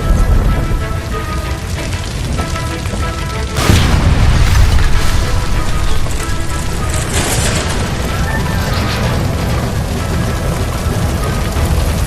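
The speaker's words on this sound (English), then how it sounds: "Shoot the gas line, Cole, we're out of here!" A gas line blowing up in LA Noire at an electroplating plant: a sudden heavy boom erupts midway through loud ongoing crackle and roar, then settles into a sustained rumbling, hissing wash.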